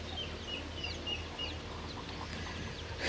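In a village, hens and chicks cluck and peep in short, soft calls over a faint, constant outdoor background, with a rustle near the end.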